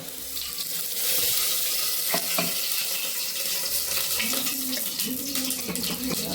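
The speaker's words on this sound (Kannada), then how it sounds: "ಸ್ವಲ್ಪ ಎಣ್ಣೆ ಹಾಕ್ಕೊಂಡೆ ಪಾತ್ರೆಗೆ, ಟೊಮೆಟೊ ಈರುಳ್ಳಿ ಎಲ್ಲ ಫ್ರೈ ಮಾಡಿ" Tomato and onion frying in oil in a pot for dantu soppu sambar, a steady close hiss and sizzle with occasional stirring clinks, running continuously.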